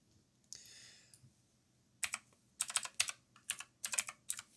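Keys clatter on a computer keyboard in quick bursts of clicks, with a brief softer rustle near the start, then pauses between volleys of typing, close and moderately loud with no talking.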